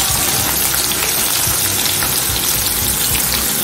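Sausage sizzling steadily in a pan, a loud, continuous hiss and crackle of frying fat with no pauses, close up and alone.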